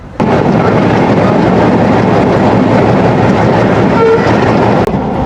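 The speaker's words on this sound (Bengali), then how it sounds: "আশি কিলো বাংলার গতি হচ্ছে এই মংলা কমিউটার ট্রেনের" Mongla commuter train running at speed, heard on board: a loud, constant roar of wheels and rails with a faint rhythmic clatter, a short high tone near the end and no voices.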